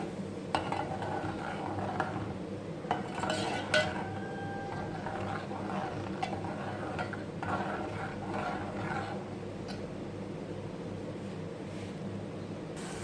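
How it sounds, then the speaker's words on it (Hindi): Tomatoes are stirred into chicken curry frying in a pan for a quick cumin chicken dish, giving a soft steady sizzle with occasional spoon clinks and scrapes against the pan, fairly quiet and close. "टमाटर भी शामिल कर देंगे। अच्छी तरीके से मिक्स करेंगे।"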